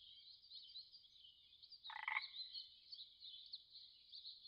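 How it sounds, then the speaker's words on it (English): Darwin's frog gives a continuous high-pitched trilling call with one short, louder croaky burst in the middle, fairly close and without any talk. "Darwin's frog."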